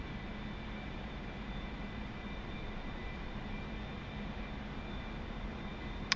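Steady jet engine roar of an A-4 Skyhawk in the DCS flight simulator, a constant broadband drone with faint whining tones and a brief click near the end.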